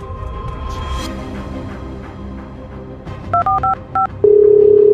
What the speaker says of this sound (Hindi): मैं उसको कॉल करता हूँ।